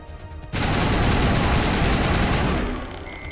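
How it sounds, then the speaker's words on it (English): Rocket fired in the Mass Effect game: a sudden loud blast opens into a dense, roaring explosion that rumbles for about two seconds, then fades into lower ambient hum, no talk. "We can try to shoot a rocket and it ricocheted."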